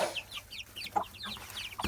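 Chickens in a backyard coop cluck repeatedly at close range during feeding, a busy overlapping chorus of short clucks and squawks with no talk.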